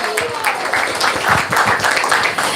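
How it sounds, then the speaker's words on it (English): Audience applause at a devotional gathering, a sustained patter of many hands clapping at close range for a couple of seconds, with a faint voice underneath. "So let's give her a round of applause."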